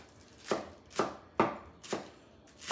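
A knife finely chops ginger on a cutting board for a ginger chicken topping, giving five crisp, evenly spaced strikes, close and distinct, with no voices.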